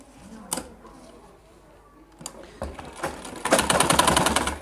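Sewing machine stitching a belt onto a school skirt, a few handling clicks and knocks followed by a building run of rapid close stitching toward the end.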